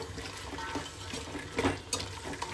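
A spoon stirs field beans (avarekalu) into palav in a cooking pot, producing soft scraping and clinking strokes with a couple of louder knocks against the pot.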